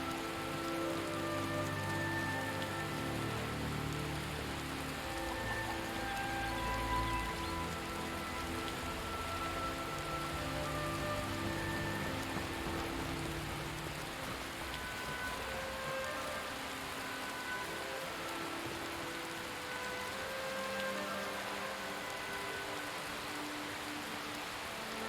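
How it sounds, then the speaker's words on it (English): Early morning rain falls over the village of Riverwood in Skyrim, a steady, even hiss of drops on surfaces that continues for the whole stretch with no voices. "A little bit of early morning rain in over Riverwood."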